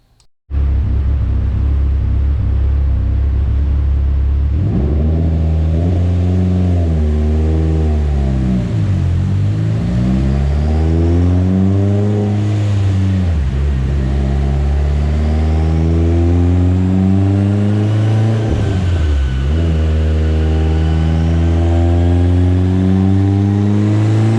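A built Mitsubishi Evo X engine with AMS block, TMP cams, FIC 2150 injectors and flex fuel tune revs hard on a dyno, a loud sustained rising and falling engine note through repeated gear pulls, with no talking.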